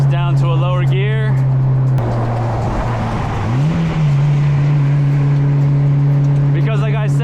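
A Mitsubishi Evo X accelerates hard in a lower gear, a loud steady engine drone that dips and then climbs again in pitch. Someone talks briefly at the start and again near the end.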